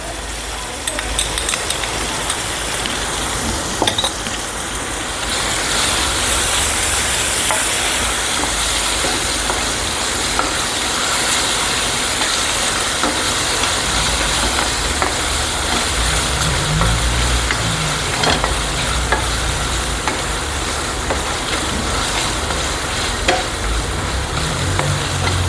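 Ginger garlic paste sizzles and fries in a pan with steady stirring during home cooking for a potato pepper fry. The hiss is loud and continuous throughout, and someone talks over it.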